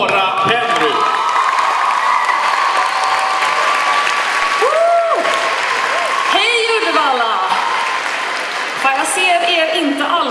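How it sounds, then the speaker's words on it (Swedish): Loud, sustained applause and cheering from a festival crowd, dense clapping throughout with whoops and shouted voices rising above it, close and full for the whole stretch. "Ge en riktigt varm applåd"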